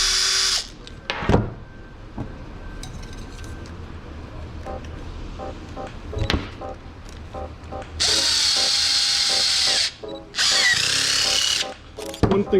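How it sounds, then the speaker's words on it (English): Short bursts of a power tool whir as it drives hose clamps tight onto a pipe coupler, several brief runs early on, then two longer, louder whines, with clicks and clanks of handling between. "And we'll go ahead and get those clamped down."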